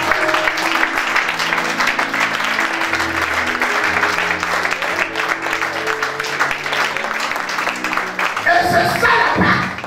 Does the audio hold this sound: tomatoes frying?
no